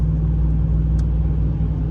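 A Ram 1500 Laramie pickup towing about 4,000 pounds gives a steady, low engine and road rumble, heard from inside the cab with no talking.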